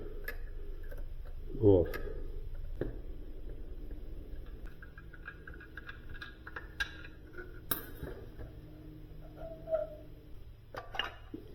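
A quarter-inch box wrench works three bolts on the motor of a Sub-Zero UC-15 ice maker spray pump, producing scattered light metallic ticks and clicks while someone talks throughout.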